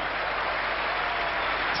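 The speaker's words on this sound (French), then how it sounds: "Noah applaudit, le public aussi." Tennis crowd applauding at a 1985 match, a steady, continuous wash of clapping from a large audience, heard at a distance and evenly loud throughout.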